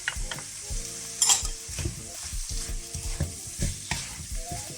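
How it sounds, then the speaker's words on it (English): Shredded carrots and cabbage stir-frying in a hot pan for fried rice with Spam, a continuous sizzle broken by repeated scraping and clinks of a utensil stirring, close and fairly loud. "now our shredded carrots and cabbage."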